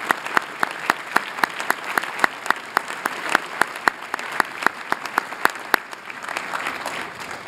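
Audience at a Harvard University commencement ceremony applauding, a steady run of crisp hand claps spread across a large crowd, moderately distant and without talk.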